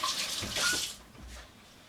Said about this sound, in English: let me just rinse my hands off if I touch the pan